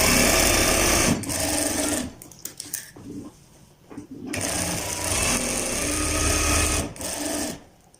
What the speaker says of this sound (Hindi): इस तरह दोस्तों अब हमारा जो अगला बाजू है उसकी स्टिचिंग भी हम कर लेते हैं।